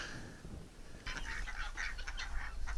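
Rouen ducks in a backyard flock give a run of quacks and honking calls, fairly close and moderately loud, starting after a quieter opening with low rumbling background noise.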